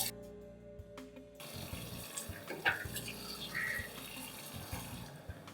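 Tap water runs steadily into a bathroom sink as someone rinses their face mid-way through a wet shave, a faint, continuous splashing hiss with a few soft knocks.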